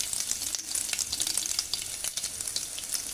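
Dried red chili sizzling in a small amount of oil while tempering rasam: a steady, close crackling hiss with frequent sharp pops and spits, no voices.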